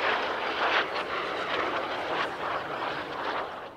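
Jet engine roar of a Folland Gnat advanced trainer at the RAF Cosford air show, a steady loud broadband rush sustained throughout with slight swells, no talk.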